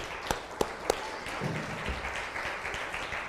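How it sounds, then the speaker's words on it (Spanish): A church congregation applauds, a steady wash of many hands clapping at moderate distance, opening with a few sharp louder claps before settling into sustained, even applause. "Démosle un buen aplauso a Cristo."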